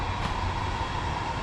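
A passing train heard as a steady, loud broadband rumble and roar that holds constant with no pauses and no voices over it.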